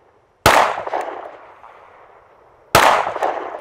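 Two sharp, loud rifle shots from a rifle fitted in a Recover Tactical P-IX+ chassis, each a sudden crack followed by a ringing decay, spaced a little over two seconds apart with no talk.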